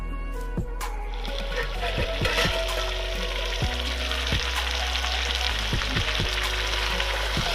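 Simolu potatoes fry in a wok with a steady, close sizzle, and a spatula scrapes and knocks against the metal pan in irregular clattering strokes. No one speaks.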